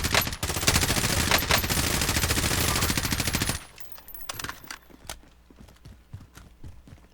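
Rapid automatic gunfire in a first-person shooter video game, a dense loud burst lasting a few seconds, then scattered sharper shots and clicks over quieter background.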